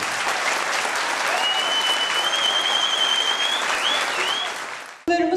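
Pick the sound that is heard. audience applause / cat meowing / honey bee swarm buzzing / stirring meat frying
audience applause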